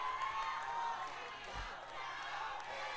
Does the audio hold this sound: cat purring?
no